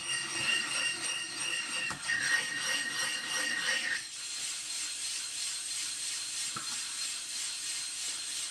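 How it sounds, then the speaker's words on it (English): A sharpening stone is worked back and forth on a large DMT extra coarse diamond plate to flatten it, giving a dense, steady gritty rasp close up that stays continuous, with one brief knock partway through. "I'm using a DMT extra coarse, big one. And I'm just trying to get a real quick flattening job done on this."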